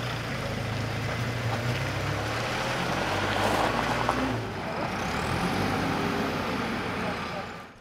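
Heavy trucks and other vehicles pass on a congested city street, producing a continuous low engine rumble and road noise with a faint hiss of brakes, fading away at the end.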